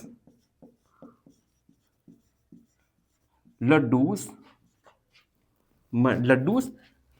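Pen strokes from a math solution being written out, short scratchy bursts repeated at an even pace, with a person talking between them.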